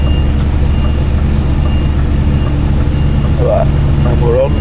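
A truck idles steadily and reverses slowly under a trailer with a low engine drone throughout, and faint reversing beeps emerge toward the end, nearby and loud.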